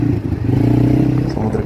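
A 500 cc ATV quad bike engine drones on a beach, a loud, close, steady mid-pitched hum with slight rattling and rising revs as it rides along the shore.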